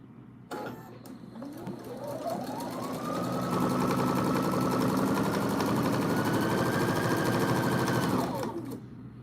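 Sewing machine stitching at a homestead, starting up and running fast and steady for several seconds with a rapid mechanical whir and rising pitch, then stopping; no voices.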